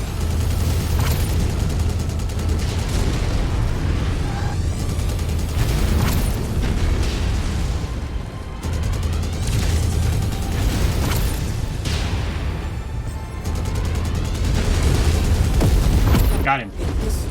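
Loud, continuous explosions and booming weapon fire roar as a Marauder mech is destroyed in MechWarrior 5, with rumbling blasts layered throughout and a voice speaking over the din.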